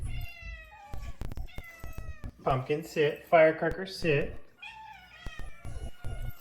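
Cats meow repeatedly, several drawn-out close calls clustered in the middle, while a person talks quietly around them.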